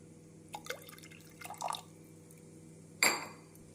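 Tamarind water is poured into mashed, cooked dal for sambar, with a few soft drips and liquid splashes, then one sharp louder pour near the end, in a quiet kitchen.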